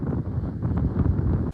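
Wind gusts across a mountain trail on the climb to Sathuragiri, roaring and buffeting close against the microphone in uneven surges before cutting off abruptly near the end.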